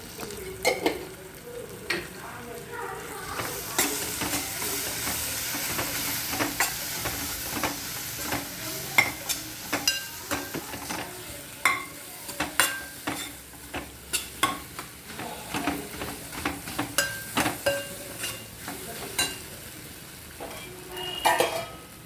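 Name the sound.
sautéing spices and coriander powder in a pan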